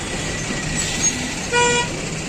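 Vehicles sit jammed on the Mumbai–Goa highway near Khed Bharana, a constant rumble of engines and traffic with a short horn toot standing out near the end.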